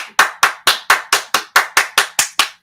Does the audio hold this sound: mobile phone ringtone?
no